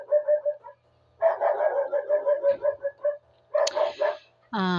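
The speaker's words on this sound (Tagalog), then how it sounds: "Ayan, may aso maingay." A dog barks repeatedly in rapid bursts, fairly near, with short pauses between volleys.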